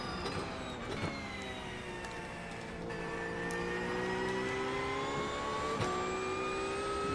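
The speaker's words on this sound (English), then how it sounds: "This car is loud." Race car engine at Daytona during 24-hour race testing, heard from inside: a continuous high whining drone whose pitch climbs gradually with a few shifts and clicks, steady and moderately loud, no talk.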